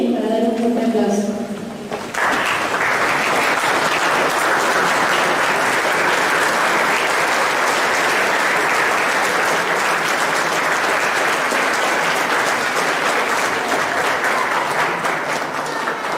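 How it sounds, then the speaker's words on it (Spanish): An audience rises for a loud, sustained round of standing applause at a lecture on the Second World War, dense clapping filling the hall for many seconds right after a brief spoken announcement. "Les pedimos a todos que nos pongamos de pie para dar un fuerte aplauso."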